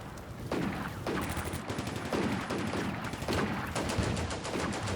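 Gunfire and mortar fire in the World War II strategy game Combat Mission: Barbarossa to Berlin, with dense rattling volleys and repeated sharp shots over a constant rumble of battle and no speech.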